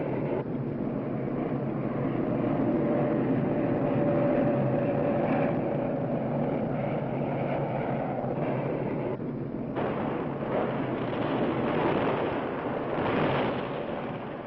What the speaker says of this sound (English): They pound the zone day in, day out with tons of explosives